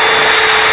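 Milwaukee GEN 4 2904 hammer drill running with a 3/4 inch impact socket on an adapter, a loud, steady, high-pitched motor whine filling the whole short moment with no speech.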